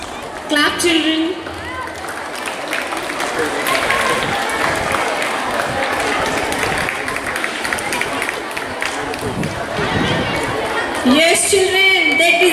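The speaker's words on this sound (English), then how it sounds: "Clap, children." Schoolchildren clapping and cheering outdoors at a school mini marathon for National Sports Day, a sustained crowd of applause and chatter with voices rising over it near the start and end.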